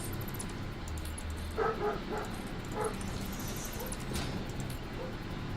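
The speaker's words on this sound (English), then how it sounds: "God, the dogs are annoying." Several dogs barking in short bursts of yips and barks in the background while a Satisfactory game session plays, the barks moderately distant under steady room noise.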